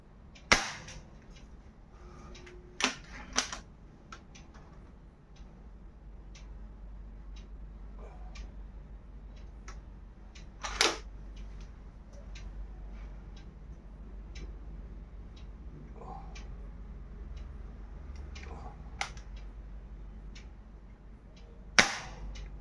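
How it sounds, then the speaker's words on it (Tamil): Air rifle shots fired at a target after about two years unused: a few sharp cracks spaced across a quiet stretch, one near the start, a pair a few seconds in, another midway and one at the end, over a low steady hum. "let's fire at the target and see if it's still accurate."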